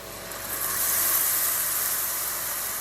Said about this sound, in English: Get ready for the sizzle.